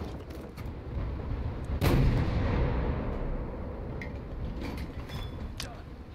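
Ship guns firing in a War Thunder naval battle on the SF40 boat, a loud heavy boom standing out over constant engine and water rumble, with a few sharper cracks after it.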